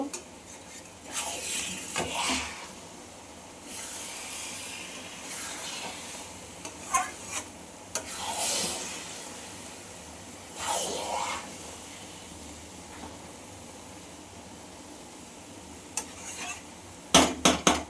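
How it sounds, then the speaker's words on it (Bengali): Mango lachha pickle with sugar being stirred in a pan makes a quiet, low sizzle, with irregular scraping strokes of a spoon and a few sharp clinks near the end, up close. "আবারও আচারটা একটু নেড়ে নেব।"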